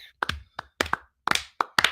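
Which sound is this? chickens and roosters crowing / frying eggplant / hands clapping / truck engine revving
hands clapping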